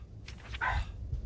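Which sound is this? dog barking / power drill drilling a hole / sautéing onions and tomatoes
dog barking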